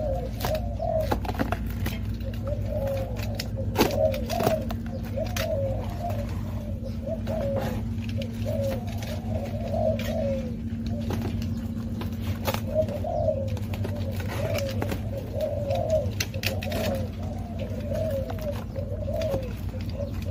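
A racing pigeon coos close by in steady, repeated rolling phrases throughout, over a low constant hum, with occasional faint clicks and rustles.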